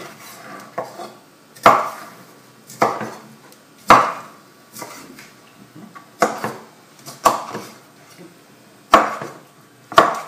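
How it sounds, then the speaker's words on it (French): A knife chops canned pineapple into small chunks on a cutting board, giving sharp, fairly close thuds in an uneven rhythm, roughly one or two per second, with nothing else in between. "Hop, on prend de l'ananas, on va le couper en petits quartiers."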